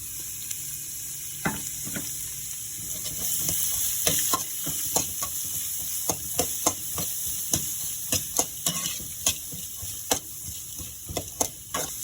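Onions frying in a pan for upma make a constant close sizzle, broken by a dozen or so sharp clacks of a spatula stirring against the pan, no talking.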